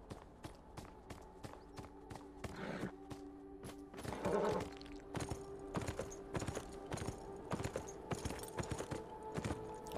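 A horse's hooves clip-clop steadily in the video game Beyond Two Souls, a regular, fairly close trotting rhythm of sharp hoof strikes with a brief swell of other noise midway.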